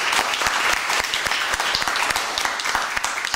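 An audience applauds with dense, steady clapping that keeps an even loudness for several seconds and has no talking over it.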